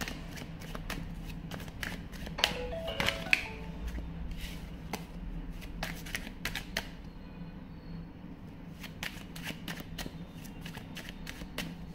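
A deck of tarot cards is shuffled in repeated riffles and flutters, close and crisp. The shuffling breaks into dense bursts of rapid card snaps with short gaps between them.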